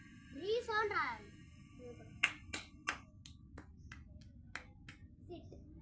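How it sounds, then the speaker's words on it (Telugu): A voice rings out briefly in a classroom, then scattered, sharp handclaps follow, a handful of separate claps rather than sustained applause. "వెరీ గుడ్ వచ్చిన వాళ్ళకి క్లాప్స్."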